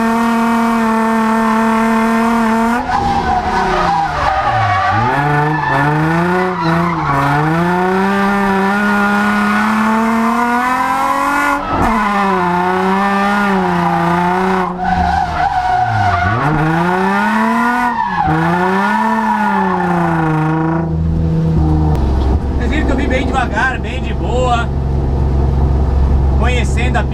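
A car circles a race track at speed, its engine revving up and down in sweeping pitch changes while tires squeal through the corners, loud and continuous, with the engine easing off near the end.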